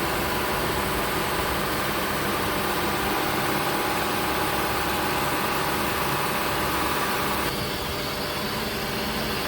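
A 2003 Honda Pilot engine held at around 2000 RPM, a steady, loud, droning hum that stays even throughout and eases slightly toward the end, with no one talking.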